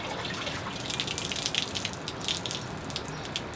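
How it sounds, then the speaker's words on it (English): Water drips and trickles steadily from a leaking Zuru X Shot Skins Hyperload water gun, a close, continuous patter of small splashes with scattered brighter drops. "Extra dripping from other places."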